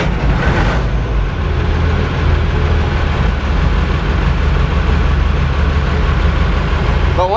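Diesel-type engine cranked and running after a cold start without a manifold heater, a loud, steady low rumble and clatter filling the whole stretch with no talk.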